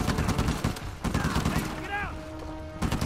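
Gunfire from the video game Uncharted 4: A Thief's End sounds as a run of rapid, fairly loud bursts over constant game noise, broken by a short lull partway through.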